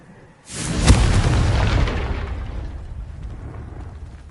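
A Confringo fire spell explosion in Hogwarts Legacy on PS5 erupts as a single loud booming blast with a sharp crack at the onset, then a rumbling roar that slowly fades over several seconds.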